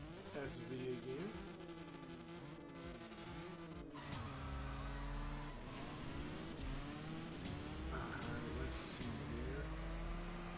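A Lamborghini Murcielago SV races in the CSR Racing 2 mobile game, its engine revving up through shifts with tire squeal, faint and continuous, with a person talking over it.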